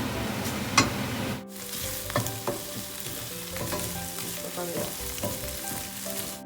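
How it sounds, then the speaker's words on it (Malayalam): Onions sautéing in an oil-filled pan for a Kerala-style chicken curry, a steady close sizzle broken by repeated scraping and stirring knocks from a spoon, with no voices over it. "ഇനി ഇത് ലൈറ്റ് ബ്രൗൺ ആകുന്നവരെ നന്നായി വഴറ്റി കൊടുക്കണം."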